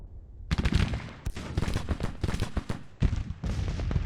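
Dense musket fire from skirmishers in the Civil War strategy game Grand Tactician: The Civil War, a rolling crackle of overlapping shots with heavier booming volleys, continuous and loud with no speech.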